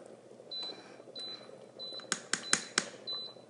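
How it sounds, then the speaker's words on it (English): A pressure cooker signals the end of its sear function with a few sharp electronic beeps in quick succession, faint against a quiet kitchen background. "The pressure cooker is beeping because it says that we are done with our sear function."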